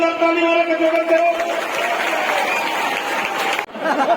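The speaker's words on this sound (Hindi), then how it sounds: "उनके लिए जोरदार ताली मार के स्वागत करो" A crowd claps at an Adivasi Day ceremony to welcome an official, a loud dense round of applause that follows a voice at the start and runs for several seconds before cutting off near the end.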